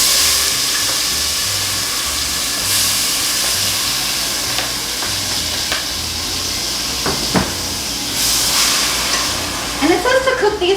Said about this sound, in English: cook the peppers and onions in bacon grease